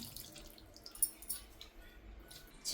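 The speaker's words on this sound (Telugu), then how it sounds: "ఇప్పుడు రసం తీసి వేసుకుందాం" A lemon-sized lump of soaked tamarind squeezed by hand in water for its juice, giving faint, quiet dripping and soft squelching trickles, with a slightly louder splash at the end.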